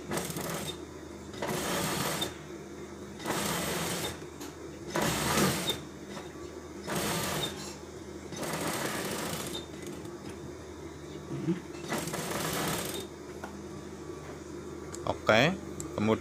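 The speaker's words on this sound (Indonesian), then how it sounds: "Selanjutnya tinggal kita jahit satu sepatu dari pinggir ini ya teman-teman." Sewing machine stitching around a shirt collar, running in repeated bursts of a second or so separated by short pauses, with someone speaking Indonesian between and over the stitching.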